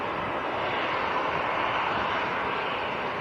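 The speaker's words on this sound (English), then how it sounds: "EasyJet to Paris Charles de Gaulle next to go. Little Airbus A319." An easyJet Airbus A319 departing Manchester Airport for Paris Charles de Gaulle gives a steady, fairly loud jet engine roar, a constant broadband rush with no breaks.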